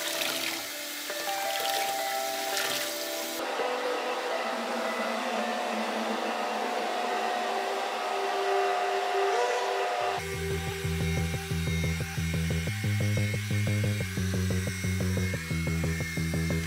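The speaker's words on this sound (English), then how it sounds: "Then we'll get on the blow drying it." Hair dryer blowing on a wet turkey tail fan, a continuous loud whooshing airflow that runs throughout, joined midway by a louder droning, pulsing motor sound, no talking.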